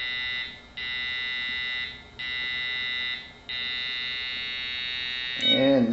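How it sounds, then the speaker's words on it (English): A police laser speed gun being jammed by a laser jammer gives a high, steady electronic whine in repeated long bursts with short gaps, fairly faint, ending in a brief burst of noise. "you actually can hear it actually starting to jam the gun a bit"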